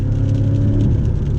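A Porsche 718 Cayman GTS with a 2.5-liter turbocharged flat-four engine pulls steadily, its low, dense engine drone and road rumble heard from inside the car, loud and continuous.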